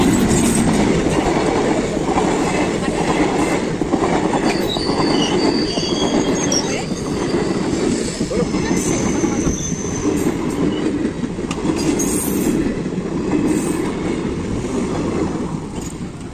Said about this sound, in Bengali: ট্রেন আহি আছে